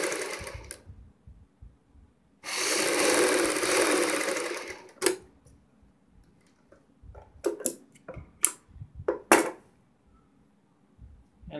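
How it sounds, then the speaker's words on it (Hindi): A sewing machine stitching a strip onto a kurti neckline runs in one loud sustained burst, followed by scattered clicks and taps of handling the fabric and machine, with no talking. "ऐसे ही तीसरी पट्टी की हम सिलाई लगाते हैं"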